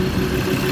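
A Ford Ranger 3.2L diesel idles right after its first start following a head gasket repair, slightly noisy while oil pressure builds, a steady, close, loud rumble with no break.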